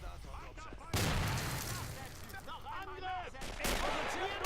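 Dense battlefield gunfire in Men of War Assault Squad 2 during an assault on a fort, with bursts of machine-gun fire and heavy booms from mortar and grenade blasts, steady and loud throughout with surges near the start and end.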